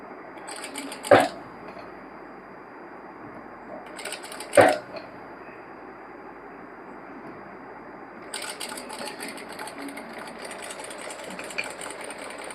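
Sewing machine stitching an anarkali dress, with two short loud bursts of stitching followed by a longer steady run near the end, over a low background hum.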